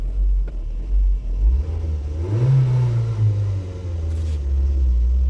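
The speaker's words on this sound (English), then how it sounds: "Let me give it a little gas." A car engine with a vacuum leak and loping idle revs up, its low rumble climbing in pitch and then easing back toward a steady idle, loud and close.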